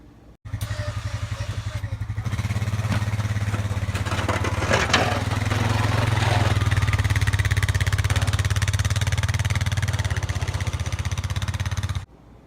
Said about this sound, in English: When our neighbor Jeff came along on his ATV with a snowplow, and he gave Jeremiah a ride.